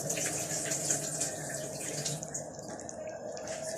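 Running water streams steadily from a tap into a cooking pot, a continuous splashing hiss with a low background hum, no voices.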